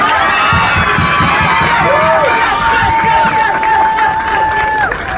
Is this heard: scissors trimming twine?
no